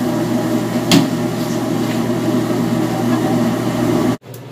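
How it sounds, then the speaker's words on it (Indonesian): A kitchen range hood exhaust fan runs with a steady, close droning whir, accompanied by a brief clatter near the start, before cutting off abruptly near the end. "jangan lupa ya kasih nyala penyedot asapnya biar aman"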